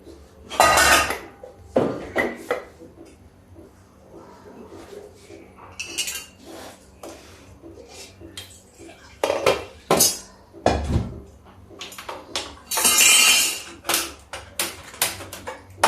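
A metal pan and utensils clink and clatter while cooking with ghee, sharp separate knocks and scrapes with short pauses between them, and a voice talks faintly in the background.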